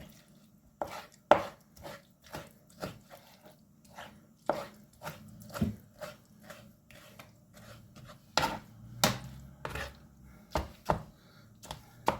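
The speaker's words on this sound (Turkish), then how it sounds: "Bıçağımızdan tekrardan kıyacağız bunu." A knife chops eggplant on a cutting board for eggplant salad, making a steady run of sharp, close knocks with short gaps between them and no voice.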